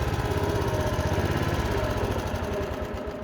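A restored lawn mower engine runs close and loud with a steady, slightly pulsing putter, its carburettor still needing adjustment; no voices.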